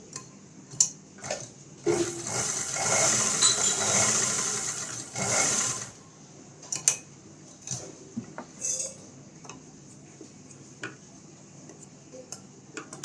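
Sewing machine stitching a blouse: a close, steady mechanical whir runs for a few seconds. Scattered ticks and clicks of the machine and fabric handling follow in a quiet room, with no talking.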